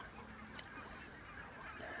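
A large flock of barnacle geese honks continuously at a distance in the early morning in Scotland, a dense, steady wash of overlapping calls with no single bird standing out.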